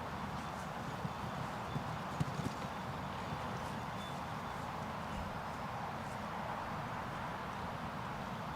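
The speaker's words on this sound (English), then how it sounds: "This time Grant is riding Yogi FLP. 13-year-old Hanoverian gelding by FRH Quaid out of Stella." A 13-year-old Hanoverian gelding moves steadily around a 1.40m show jumping arena, its hoofbeats a faint, distant, regular clip-clop beneath broad background noise, with a few sharper knocks.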